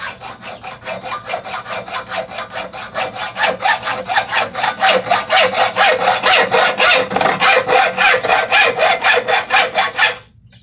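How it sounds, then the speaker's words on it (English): Copper tubing being hand-sawed off brass fittings held in a vise, a loud close rhythmic rasp of back-and-forth strokes that speeds up steadily before stopping abruptly. "we're going to cut this off the brass"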